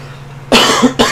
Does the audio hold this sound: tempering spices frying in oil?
no